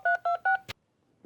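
Telephone keypad tones sound as a number is dialed: three clear, evenly spaced beeps, then a short click, followed by near silence.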